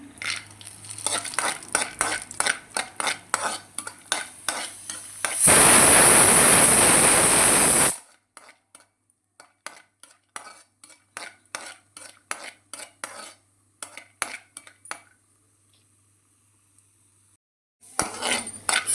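Cashews fry and get stirred in a pan for a sweet bottle gourd halwa, a rapid run of metal spatula scrapes and clinks, a loud burst of sizzle midway, then quieter intermittent stirring.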